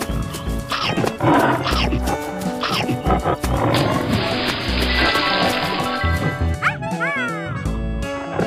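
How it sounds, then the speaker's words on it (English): A tiger roaring over loud, rhythmic background music with a driving beat, the roar rising and falling in strong bursts. "Tiger."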